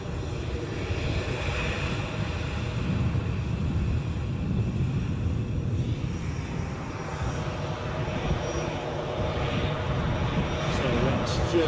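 An easyJet Airbus A320-200 bound for Madrid roars close by at Edinburgh Airport, its engines a sustained, loud rumble with a thin whine over the top, steady throughout, with a voice talking underneath.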